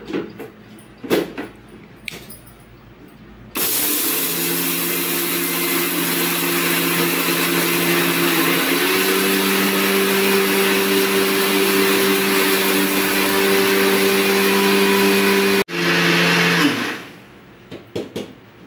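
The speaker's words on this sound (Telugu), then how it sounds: "ఇప్పుడు మిక్సీ పట్టేసుకుందాం." A mixer grinder whirs loudly and steadily for about twelve seconds as it grinds roasted black gram into a fine powder for sweet urad laddus, with quieter handling clatter before and after.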